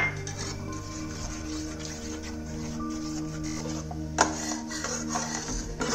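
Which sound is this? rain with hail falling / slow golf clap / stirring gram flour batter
stirring gram flour batter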